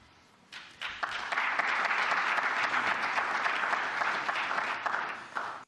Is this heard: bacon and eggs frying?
no